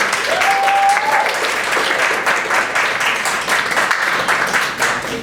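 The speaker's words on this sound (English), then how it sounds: "So a round of applause for all of those students who made that decision." An audience at an honors breakfast gives a round of applause for students, loud, close, dense clapping that runs throughout with a slight dip near the end.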